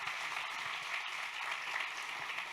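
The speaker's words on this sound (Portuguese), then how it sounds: "Vamos aplaudir Jesus." A church congregation claps during a Sunday evening service, steady, moderately distant applause with a bright, even hiss of many hands and no voices over it.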